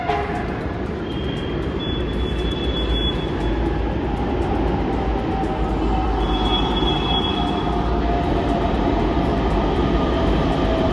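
A Pune Metro train rumbles past steadily with rolling wheel noise, and two thin high squeals ring out from the rails along the way.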